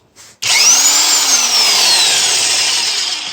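A Porter Cable PCE211 7.5 amp corded impact wrench spins up to speed unloaded, a loud, close, steady whine that holds and then slowly winds down.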